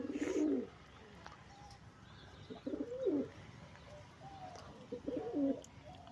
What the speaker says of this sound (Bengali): আর যেটা ডাকছে ওই পায়রাটা হচ্ছে ম্যাড্রাসি পায়রা।